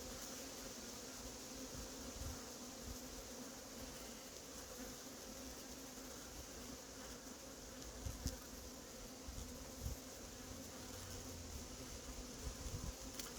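A hornet buzzes near a beehive trap in an apiary, a faint continuous insect drone with a few brief louder passes, with no voices.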